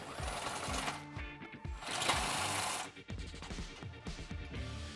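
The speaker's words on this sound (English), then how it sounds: "remove the two 13 mil head bolts holding it to the frame. This is easiest with a short socket and a wobbly." A ratcheting socket wrench works 13 mm head bolts loose from the frame-side exhaust mount of a 3.6 Jeep Gladiator JT, a rapid mechanical clatter running continuously and close with short pauses between bursts.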